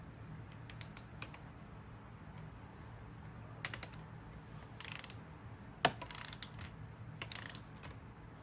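Sharp clicks from a torque wrench set to 16 foot-pounds as bolts on a KLX140 170cc BBR big bore kit are tightened, several brief close snaps spaced apart over a quiet workshop background.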